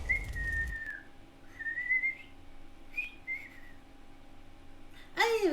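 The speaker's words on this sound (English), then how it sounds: "I whistled really bad." A person whistles a few wavering, off-pitch notes in short broken phrases, thin and uneven against a quiet background from the Hades video game, ending with a brief louder burst.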